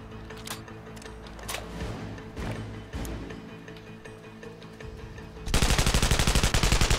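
Sniper rifle gunfire in the video game Sniper Ghost Warrior 2, several sharp shots spaced through the clip, then a loud rapid burst of fire near the end.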